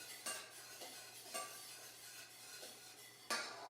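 A spoon works three cups of flour around a mixing bowl, giving soft scraping strokes in an irregular rhythm with a few sharper knocks against the bowl, close and fairly quiet.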